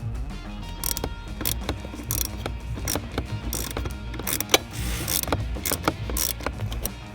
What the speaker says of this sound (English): what I use is a 1/4 inch ratchet and extensions because they're skinnier and it's easier to get in